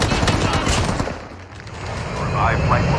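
Rapid gunfire bursts crackle through a tense first-person shooter match in a secret sanatorium room, loud and dense throughout with overlapping shots, while players talk over the action.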